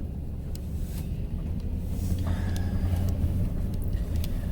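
A camper van rolls along a short stretch of road in snowy conditions, a steady low engine and tyre rumble with some wind noise, close and continuous, no talking.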